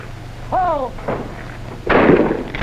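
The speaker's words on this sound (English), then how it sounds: "Well, that's good shooting." Gunfire during shooting practice, a deep booming report followed by a heavier blast, with a brief voice shouting between them over a low engine-like drone.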